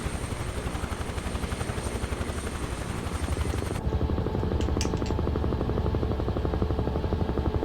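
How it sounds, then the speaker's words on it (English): Helicopter in Flight Simulator 2024, its turbine engine and rotor droning steadily with a rhythmic blade thump, loud and continuous with no voices, the tone shifting partway through as the view changes. "This is a really nice helicopter, though."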